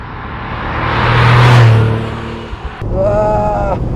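A 1997 Porsche 993 Turbo S, the air-cooled 911, accelerating hard: a loud engine roar swells and fades as it passes, followed by a rising whine from another run.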